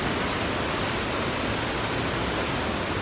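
A loud waterfall on a forest hiking trail in Pennsylvania roars as a dense, unbroken wash of white noise, close and steady throughout.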